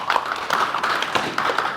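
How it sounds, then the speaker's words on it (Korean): Applause from the audience at a diplomacy forum's roundtable session, a brisk, close patter of many hands clapping steadily with no voices over it. "큰 박수 부탁드립니다."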